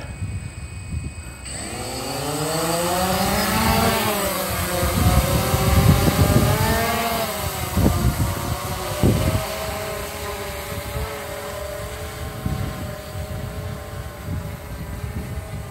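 A DJI Phantom P330D drone taking off in strong wind, its rotors whining up in pitch from a close start, then a loud layered buzz that wavers and dips as gusts batter it.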